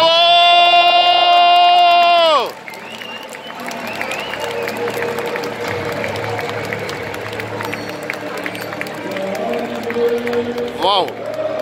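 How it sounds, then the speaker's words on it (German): A large crowd at an anniversary show applauds and cheers, a dense roar of clapping and voices that follows a sustained loud synth tone cutting off early, with a brief whistle-like sweep near the end. "Und einmal einen kräftigen Applaus."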